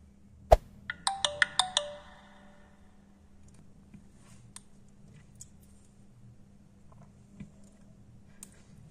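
A Jio F41T feature phone powering on plays a short, bright startup chime of quickly stepping tones, preceded by a sharp click, then gives way to near silence with a few faint ticks.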